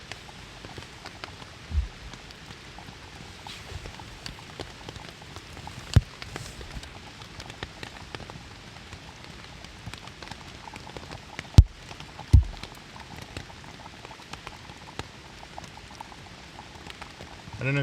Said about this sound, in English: The rain is coming down pretty hard.